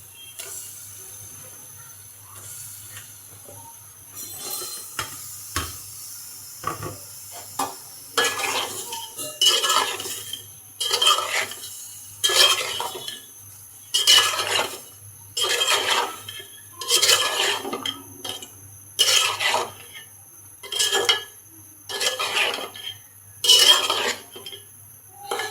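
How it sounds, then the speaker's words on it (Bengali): Pieces of sponge gourd go into a curry in a pan and get stirred, with rhythmic metal scraping and clinking of a spoon against the pan. The bursts grow louder and more regular over time, with a faint background hum and no speech. "এখন দুন্দুলগুলো দিয়ে দিব।"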